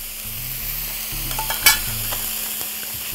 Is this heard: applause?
no